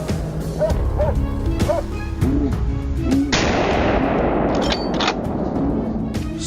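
A loud gunshot rings out during a wild boar hunt, set against a dense, noisy outdoor scene with other harsh sounds running through the whole stretch.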